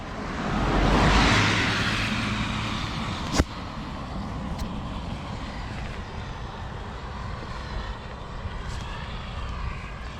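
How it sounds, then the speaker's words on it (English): Car passing on a quiet rural road near a cyclist at a gate on a rainy morning, a rising then fading engine and tyre rush early on, followed by a softer steady background of rain and wind. "There's a car coming,"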